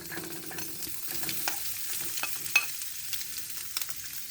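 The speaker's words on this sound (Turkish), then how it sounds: "Artık içerisine yağımla birlikte etimi boşaltıyorum." Steady sizzling of meat frying in hot fat on a griddle for Turkish sac kavurma, a crackling hiss with occasional sharp pops and spatters, close up and with no talking.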